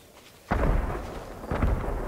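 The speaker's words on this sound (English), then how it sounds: "All fireworks! On all sides!" Fireworks burst in the video game Ghost of Tsushima, two sharp booming blasts about a second apart, each rolling on into a rumbling tail.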